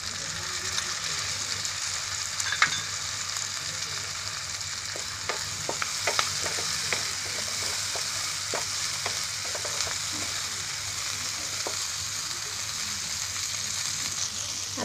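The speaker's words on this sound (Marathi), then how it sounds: "आता याच्यामध्ये आहे ना टोमॅटो टाकते." Tomatoes go into hot oil in a pan while cooking a Marathi lemon egg curry, giving a steady, fairly loud sizzle with scattered small pops and crackles throughout.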